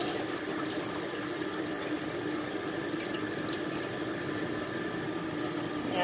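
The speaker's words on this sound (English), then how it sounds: "pour the water." Tap water running steadily into a kitchen sink while food is washed, a continuous close splashing rush with no talking.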